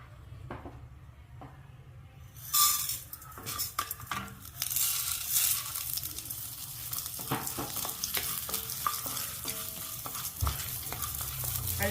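Urad dal roasting in a pan for Pudukkottai chutney after dried red chillies, stirred with a spoon: near-silence gives way to a crackling sizzle with repeated scraping and clinking strokes, close and moderately loud, with no talking.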